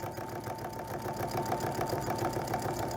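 A sewing machine stitches quilt fabric for a Christmas tree quilt block, running as a steady, close, mid-pitched motor hum with fast regular needle ticks through all three seconds.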